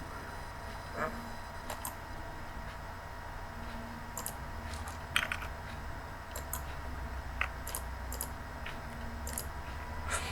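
A computer mouse clicks repeatedly while Ctrl is held during left clicks in MS Word, giving about eight sharp, close, quiet taps spaced irregularly over a steady low room hum, with no voices.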